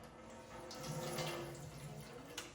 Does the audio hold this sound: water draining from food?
yes